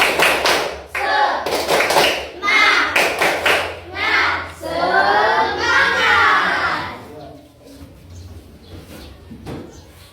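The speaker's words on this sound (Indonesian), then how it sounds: "Tepuk semangat." Rhythmic spirit clapping in a fourth-grade Quran and Hadith class, with bursts of claps in a patterned beat mixed with children's voices chanting and speaking nearby.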